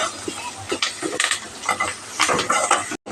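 Onions frying in a pan for fish curry, with a steady sizzle under repeated scraping and clinking strokes of a spoon stirring against the metal pan, close and fairly loud.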